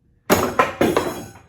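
A screwdriver pries the stop off a drawer slide on a Milwaukee Packout toolbox, giving a few sharp, close metallic clacks and a pop in quick succession.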